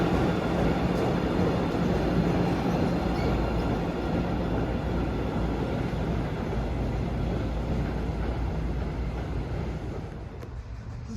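A Boston MBTA Blue Line subway train produces a steady, broad rumble with wind buffeting on a sunny day at a station in a quiet neighbourhood, easing slightly toward the end, with no voices.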